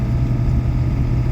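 A John Deere 4430 tractor's engine drones steadily and close while driving, a low, even mid-pitched rumble with no speech over it.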